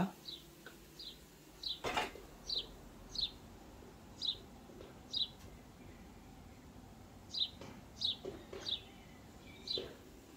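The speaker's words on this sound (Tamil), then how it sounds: "சிட்டுக்குருவி எவ்வளோ அழகாக கத்துது" House sparrows chirp repeatedly in short, bright bursts, about a dozen calls spread irregularly over a quiet background, with a sharp click near the start.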